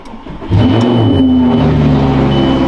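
A crashed Lamborghini Gallardo, stripped and without door panels, cold starts: the starter catches at about half a second and the engine then settles into a loud, steady, close idle.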